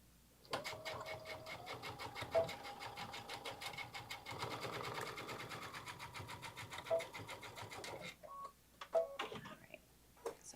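A sewing machine stitches a seam on a bag, its rapid needle clatter running steadily for several seconds before slowing and stopping near the end, with faint talking in the background.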